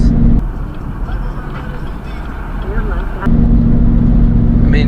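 A Chevrolet Suburban fitted with 3-inch wheel spacers drives at around 40 mph, a steady loud cabin rumble of road and engine noise under continuous talking.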